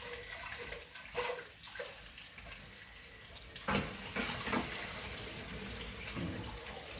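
Water runs steadily from a tap while noodles are rinsed, a continuous hissing splash with a few louder clatters and surges, close by and with no talking.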